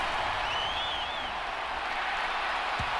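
Crowd applause in Madden NFL 23 after a defensive stop, a steady broad wash of clapping and crowd noise at constant level, with commentary voices faintly under it.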